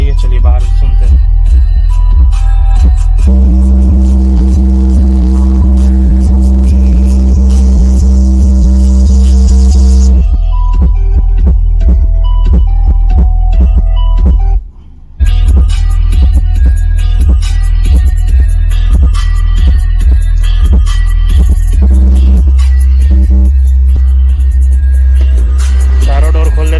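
Car bass tube subwoofer pumping heavy low bass with the doors open, booming and throbbing steadily with music on top, loud, with a brief drop-out near the middle.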